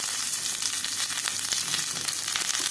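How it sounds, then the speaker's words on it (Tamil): Cumin seeds and curry leaves sizzle in hot coconut oil for a tempering, a loud, close, continuous frying hiss with no voices. "இப்போது இது தாளிக்க போகிறோம்."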